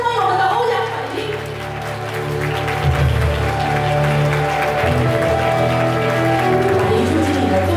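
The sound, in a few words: applause welcoming a speaker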